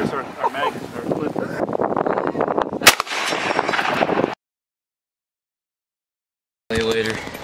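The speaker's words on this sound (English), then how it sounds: "We'll let you shoot this last one." Single sharp gunshot from a handgun cracks out amid nearby talking outdoors, followed by more speech, a stretch of silence, then a short burst of voices.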